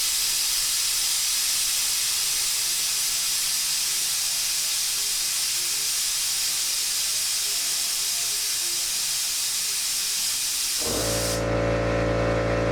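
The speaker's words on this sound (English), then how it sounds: "here's the first test with the 8-gallon compressor. Just using an air hose." Compressed air blasts steadily from an air hose fed by an 8-gallon compressor, a loud continuous hiss lasting about eleven seconds before the compressor motor kicks on with a low droning hum.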